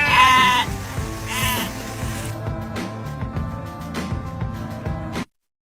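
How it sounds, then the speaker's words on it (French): A flock of sheep bleats on a road, several loud overlapping bleats up close at the start, then fainter calls over a dense rhythmic musical bed that stops abruptly. "il arrive même à faire sortir un troupeau de moutons de la route et à lui faire le tour"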